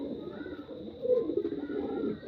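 Racing pigeons cooing softly close by, a short run of low, throaty coos over a faint steady background hum.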